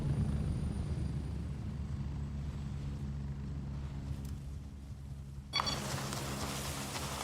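Helicopter in the military shooter game Gray Zone Warfare, a steady low rotor and engine drone holding throughout, joined near the end by a sudden burst of brighter broadband noise.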